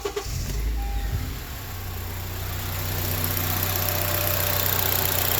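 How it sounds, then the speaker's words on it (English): Honda CR-V engine with a misfire fault, cranking briefly and then settling into a steady, fairly loud idle that continues evenly to the end. "Start it back up."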